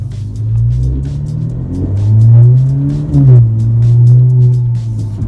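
An Alfa Romeo Giulia with aftermarket modifications, its engine rumbling and revving on a test drive, a loud, close, deep drone rising and falling in pitch as the throttle changes, with no talking.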